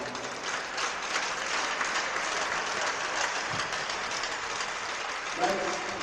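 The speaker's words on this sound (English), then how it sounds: "Let's give a round of applause for Jack." An audience at a boys' high school hockey event claps for a player, steady dense applause filling the rink for several seconds, with a brief louder burst near the end.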